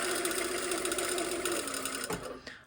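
A sewing machine runs a slash pocket seam with a curved corner, its needle chattering in a fast, steady buzz up close, slowing and stopping near the end.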